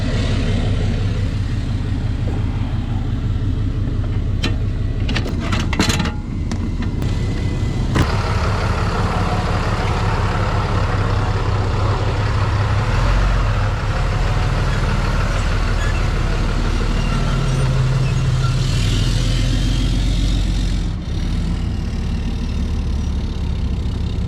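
A pickup truck engine in Baja, Mexico runs steadily at a low, rumbling idle, close and loud, with a few brief clicks and knocks early on.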